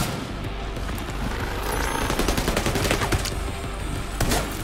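Sustained gunfire in the shooter The Division 2, set at the National Zoo: dense, continuous rattling bursts with several sharper, heavier cracks near the end, loud and close with no talking.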